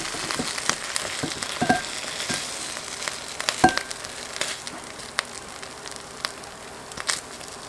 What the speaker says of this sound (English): Let's throw in our chickpeas and get those warmed up